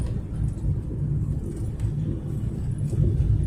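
Inside a Peugeot 205 GLD with a normally aspirated diesel engine while driving, a steady low rumble and road drone fill the cabin, fairly loud and constant, with no voices.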